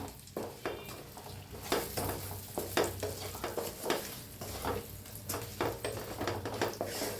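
A raw green tomato mixture with salt is stirred in a pan, giving repeated scraping and clinking strokes of a spoon against metal over a low, steady sizzle.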